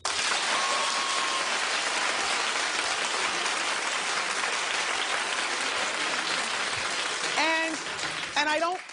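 A talk-show studio audience claps in a broad, dense wave that fills most of the stretch, then tapers as a voice briefly cuts in near the end.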